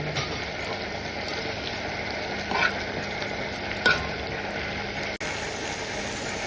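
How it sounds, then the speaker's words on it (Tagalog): Shrimp frying in a pan with garlic and onion, giving a steady close hiss of sizzling throughout with a couple of faint stirring clinks. "Pwede na natin ilagay yung ating shrimp or yung hipon."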